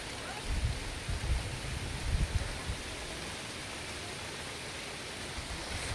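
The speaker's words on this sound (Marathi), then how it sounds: "हा पाऊस का पडतोय" Unseasonal rain in March in a rural village makes a soft, steady hiss throughout, with a few low thumps early on and no talking.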